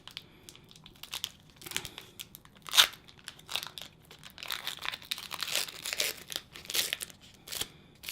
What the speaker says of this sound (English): Don't you just love the sound of rustling, opening up paper?